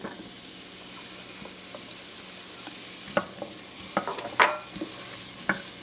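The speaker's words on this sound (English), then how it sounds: "Give that a stir. And we're going to saute our onions until they are soft and translucent." Chopped onion sautés in melted butter in a pan for carrot soup, with a soft, low sizzle and a few sharp clinks and scrapes as a utensil stirs it, louder near the end, alone without speech.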